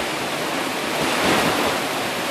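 Muddy flash-flood water pours through a slick rock canyon near Lake Powell during a storm, a loud, steady broadband rush with no break, heard close and alone.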